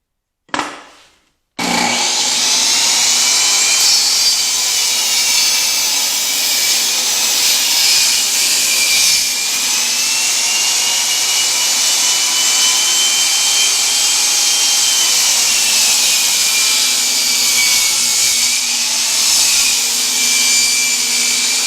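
A power saw rips a wood board lengthwise for a magnetic knife holder build, loud and close, with a brief start noise then a sustained steady high-pitched cutting whine running about twenty seconds, no talking.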